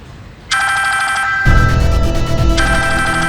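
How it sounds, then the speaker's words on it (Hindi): A mobile phone rings loudly and close by in a home, its electronic ringtone pattern starting suddenly and repeating without pause, with no talk over it. "ये फोन किसका बज रहा है?"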